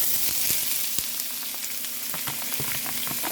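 Onions and celery sauté with seasoning salt in a hot pan, giving a steady close sizzle with scattered light pops and clicks, no voices.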